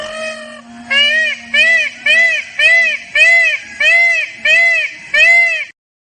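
A peacock gives about nine loud, wailing calls in a steady, evenly spaced series, with a faint low hum beneath the first few.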